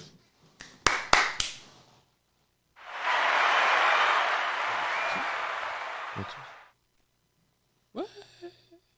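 A burst of applause sound effect plays in a French sales-writing session about a fitness program: a few sharp claps and taps first, then several seconds of steady crowd clapping that swells and cuts off, followed by a brief voice.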